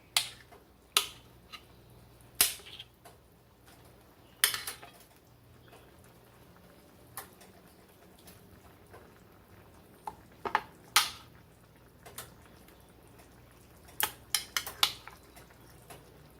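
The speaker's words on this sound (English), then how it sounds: "Scraping the bottom of the pan so you can get those flavors up" A spoon stirring a Dijon mustard pan sauce for pork chops and scraping the bottom of the pan, sharp metallic clinks and scrapes scattered irregularly over a quiet simmering background, close up.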